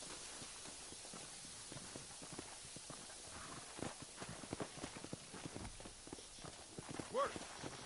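Horse hooves clip-clop in a steady rhythm on a hard surface in Red Dead Redemption on PS5, with someone speaking over the footfalls.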